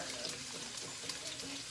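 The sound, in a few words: pouring water into a mason jar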